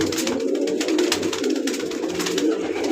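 Kept pigeons, still uncoloured and sitting in their loft, give a continuous chorus of low, rolling coos, several birds overlapping close by with no talk.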